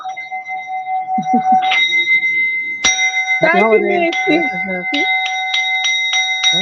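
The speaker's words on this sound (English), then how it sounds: "it's a singing bowl" A struck metal singing bowl rings with steady sustained tones, struck again several times so the ringing layers and swells, while people talk over it.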